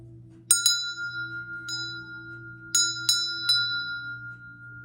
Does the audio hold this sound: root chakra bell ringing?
yes